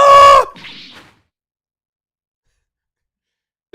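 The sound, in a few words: hawk Taka's cry in Ace Attorney video game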